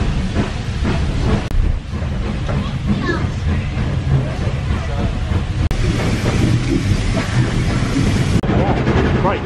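The Paignton steam train moves off on its journey with a continuous, loud rumbling and rattling of carriages on the rails, along with airy hiss and a few sharp knocks throughout.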